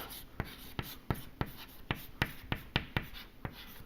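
Chalk or pen writing during a physics lecture, heard as a run of crisp, sharp taps and short strokes at an uneven rhythm, close and fairly quiet, with no talking.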